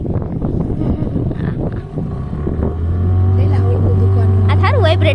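A boat's motor running after setting out to sea near Jamnagar, heard as a steady low drone that grows stronger midway, with people talking over it throughout.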